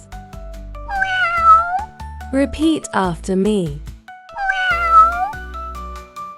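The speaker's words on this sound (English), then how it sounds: "And this is a cat." A cat meows twice, clear and close, with separate drawn-out calls at the start and the end, and a person speaks between them.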